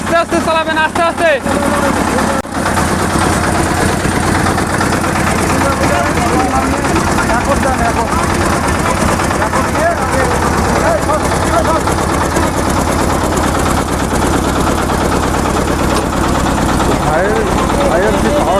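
A 35 HP tractor-model power tiller engine runs loudly and continuously, a rough, rapid chugging throughout, with people talking over it.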